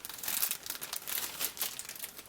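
A taped plastic bag of parts from a Jo-Han AMC Rambler 1/25 scale model car kit crinkles and rustles close by in quick irregular bursts as it is handled and opened, quiet and with no talk.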